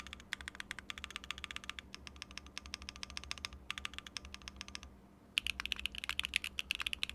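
Rapid clattery typing on a Mode Encore mechanical keyboard, close and crisp, in bursts with a brief pause before a louder, brighter flurry of keystrokes.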